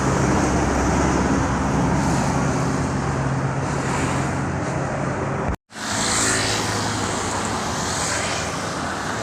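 An intercity bus passes on a Sumatra highway, a loud, steady broadband roar of tyres and engine running throughout, broken by a brief dropout near the middle before the traffic noise resumes.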